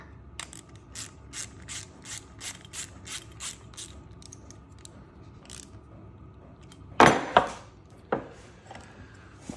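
Ratchet wrench tightening the float bowl bolt on a small Honda engine: a steady run of about a dozen quick, evenly spaced clicks up close, then a few louder metallic clunks and rattles near the end, with no talking.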